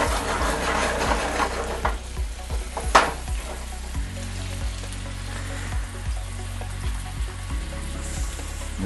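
A homemade sausage substitute fries in a pan on medium heat with a steady, close sizzle and crackle, with an occasional scrape of stirring and a low hum underneath.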